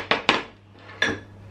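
Dishes clatter as macaroni is put into two dishes in a home kitchen: three sharp clinks, two quick ones close together and a third a moment later, near and alone.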